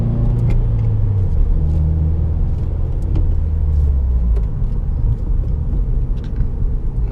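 A Subaru WRX fitted with a Nameless axleback exhaust pulls away, giving a loud, steady low rumble with a deep droning exhaust note heard close by, without any talking.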